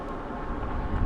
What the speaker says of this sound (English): Winds are pretty strong out of the southeast today.